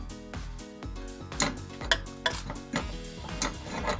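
Chicken pieces dropped into a metal pot for curry and stirred with a spoon, giving clanking metal scrapes and knocks in an uneven rhythm over a low background hum, with no talking.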